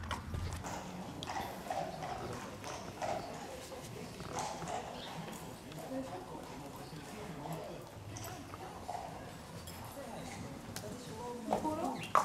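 Horse hooves clip-clop at a walking pace on a ground surface, close and steady, with people talking throughout and birds faintly in the background.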